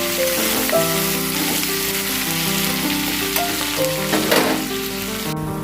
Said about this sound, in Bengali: আমি পেঁয়াজের সঙ্গেই কাঁঠাল বিচিগুলোও ভেজে নিচ্ছি।